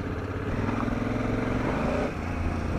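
Honda Africa Twin DCT motorcycle with stock exhaust, its engine giving a steady low rumble heard close up while riding, continuous and even in level throughout.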